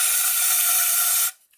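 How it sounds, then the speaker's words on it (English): Degreaser sprayed into a hose on a Jaguar XJ40 during an oil change and cam cover gasket job: one steady, close, loud aerosol hiss lasting over a second, then stopping abruptly into near silence. "I have some degreaser, just spray degreaser in here."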